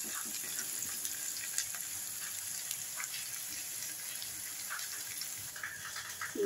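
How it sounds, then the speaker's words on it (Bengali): Chopped onions with black cumin seeds fry in oil in a wok, a steady close sizzle with faint crackles and occasional stirring sounds, no talking. "কড়াতে তেল দিয়ে এর মধ্যে কালো জিরে ফোড়ন দিয়ে দুটো পেঁয়াজ কুচিয়ে দিয়েছি।"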